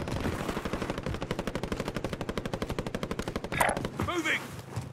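A submachine gun fires in a shooter video game: a long, rapid, evenly paced burst of close shots, followed by a few scattered impacts and other game noise, with voices talking faintly around it.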